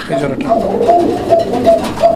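Pigeons coo in soft repeated throaty calls at a busy Bangladeshi pigeon fair, close by, with people talking over them.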